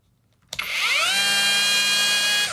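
A cheap cordless angle grinder switches on and slowly spools up, its whine rising in pitch for about half a second before settling into a loud, steady high-pitched hum.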